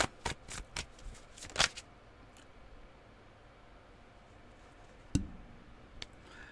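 Tarot cards are shuffled in a quick burst of crisp riffling flutters, then fall quiet apart from a soft background hiss, with a single sharp card snap and a faint tick afterward.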